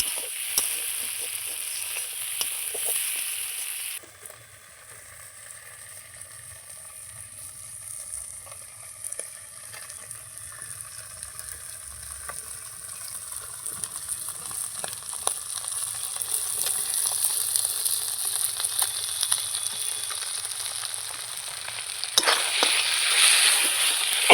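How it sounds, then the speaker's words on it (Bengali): Chopped onion and green chilli fry in hot oil with a steady, loud sizzle that crackles on throughout, with occasional stirring scrapes and no talking. "এই দেখুন ভেজে নিচ্ছি। তেলটা একটু আধা ভাজা যখন হয়ে যাবে কিছুটা, তখন আমি ভেঙে দেবো।"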